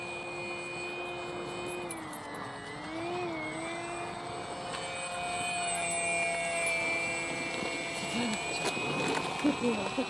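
A MODSTER Easy Trainer 1280 V2 electric RC airplane flies at quarter throttle, giving off a steady high whine with slight pitch shifts as it passes, fairly distant, with quiet talk underneath.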